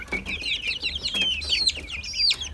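A flock of chickens, including bantams, clucks and peeps continuously inside a coop, many birds calling over one another at close range with no talking.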